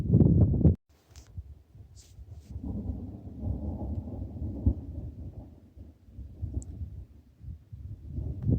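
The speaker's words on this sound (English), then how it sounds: "Big storm rolling through." A big storm rolling through about ten miles off over a wide basin gives low, distant rumbles of thunder that swell and fade across the whole stretch, with a louder burst near the start and no voices.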